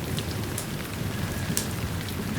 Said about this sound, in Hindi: तू बारिश में भीग क्यों रही है?